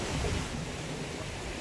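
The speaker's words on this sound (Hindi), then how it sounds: "ये नीचे पानी गिर रहा है आबशार से" Water falls from a waterfall beside the Chenab River in Gujrat, a steady, broad rushing roar with no pauses, fairly loud and even throughout.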